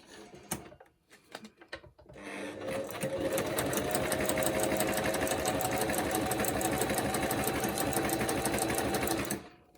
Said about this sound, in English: back on the sewing machine